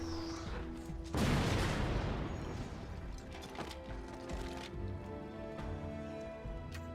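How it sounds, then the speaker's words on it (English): A loud burst of alternate fire from a gun in the video game Deep Black crashes out close and sharp, then decays into a rumbling tail, with a few smaller clanks and shots trailing over steady background game ambience. "I just wanted to show off the gun's alternate fire while we could."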